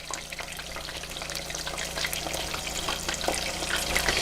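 Shrimp tempura fries in hot oil, a dense, continuous crackling sizzle that builds slightly in loudness, close and alone with no voices.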